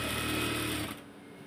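A sewing machine runs a shirt seam with a fast, even mechanical whirr that stops abruptly after about a second, leaving only quiet room tone.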